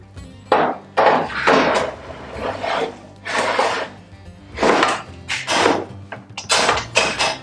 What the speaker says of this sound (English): let's throw the wheel Chock on.